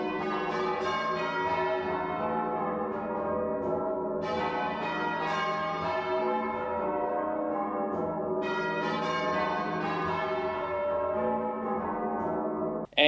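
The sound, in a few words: church bells rung half-muffled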